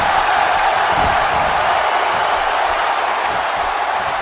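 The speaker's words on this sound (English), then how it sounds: "Crowd here in Boise in support of Akuma" Wrestling crowd at an ACW Excel event in Boise, a steady loud wall of cheering and voices with no distinct claps or peaks throughout.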